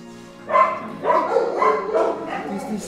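Dogs bark and yip in repeated bursts at close range, roughly every half second, with some voices mixed in.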